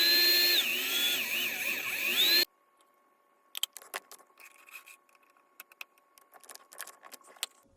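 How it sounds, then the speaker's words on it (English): A drill bit bores a hole for PTFE tubing in an Ender 3 V2 Bowden extruder part, a loud steady whine for about two seconds that stops abruptly, followed by faint scattered clicks and handling noises. "Drill a hole starting with a bit 2 size smaller."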